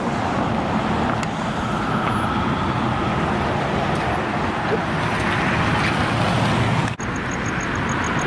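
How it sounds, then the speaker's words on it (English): A Tesla Cybertruck rolls past on a roadway, a steady broadband traffic rumble and tire hiss holding for several seconds, with a brief dip near the end. "Got a cyber truck rolling out now."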